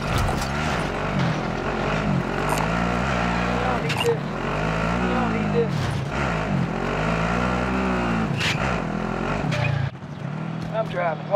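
A vehicle drives in the Call of Duty Warzone game, its engine droning loudly and steadily with repeated rising and falling revs, under a voice chat.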